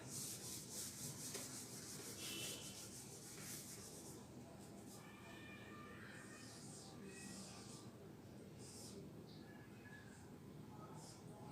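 A pen writes a Telugu letter on paper, giving a steady, soft scratching that runs unbroken from start to finish at close range, with a few brief strokes standing out.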